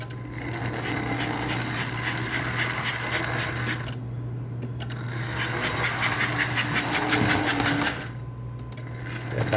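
An American Flyer 312 toy train locomotive runs on its track, giving a steady mechanical whir and hum with a fine rapid ticking, which briefly dips twice as if passing a joint or slowing.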